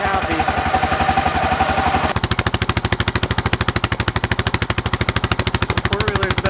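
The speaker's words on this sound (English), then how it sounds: "The four-wheeler's been running for about 10 minutes and seems to be good" A four-wheeler engine runs in extreme cold at about -39F, first a rough uneven idle, then a loud, close, rapid rhythmic chugging.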